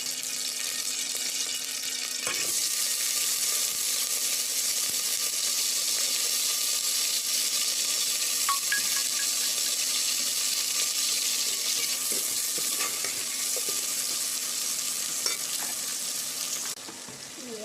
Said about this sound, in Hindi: तकरीबन गर्म हो गया है घी, इसमें प्याज डालेंगे।